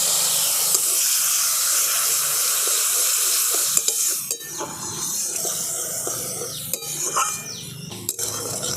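Mustard and poppy seed paste mixed in water poured into a hot pan of spices for a sorshe pabda dish, an even hissing sizzle followed by stirring and clinks of a spoon against the pan.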